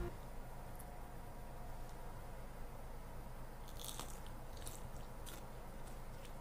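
Quiet, close crunching and chewing of dried, cooked insects, with a few crisp bites in a short burst near the middle over faint background hiss.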